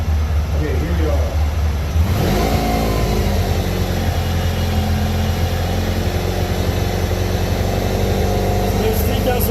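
A 1990 Honda ST1100 motorcycle engine held at about 3,000 RPM after a rev-up, a steady close droning hum with a faint voice underneath.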